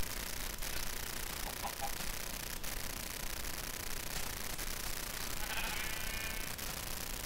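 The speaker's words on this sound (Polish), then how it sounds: "jest tu gdzieś owca? O, jest." A sheep bleats in Minecraft, the short game bleats coming faint and brief over steady static-like hiss, with a couple of soft clicks.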